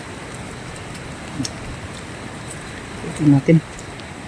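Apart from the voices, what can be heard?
heavy rain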